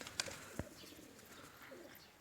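A male pigeon coos softly at a distance, with a couple of sharp clicks early on over quiet outdoor background.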